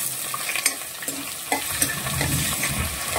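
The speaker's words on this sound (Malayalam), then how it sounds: "വെളുത്തുള്ളി ഒരു ശകലം മൂപ്പായി കഴിയുമ്പോൾ നമ്മൾ അതിലേക്ക് ഇഞ്ചി ഇടുകയാണ്" Garlic and ginger fry in a hot pan for a kakka (clam meat) fry, a steady close sizzle broken by a few sharp stirring scrapes and clinks, with no talk.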